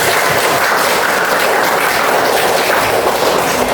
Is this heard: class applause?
yes